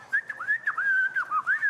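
A person whistles a short wavering tune of several quick rising and falling notes, fairly faint and alone with no talk.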